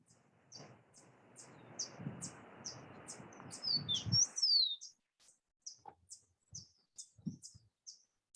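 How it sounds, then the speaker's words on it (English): Wild birds sing in cloud forest near Savegre Hotel, Costa Rica: a steady series of high, faint chirps and tweets repeating through the stretch, with a brief rustling burst of noise midway. "It's really wonderful to hear all the birds singing in the background."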